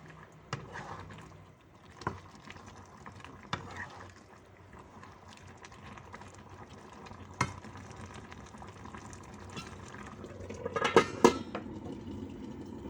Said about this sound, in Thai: ให้เราคน ให้เราคนต่อไปเรื่อยๆค่ะ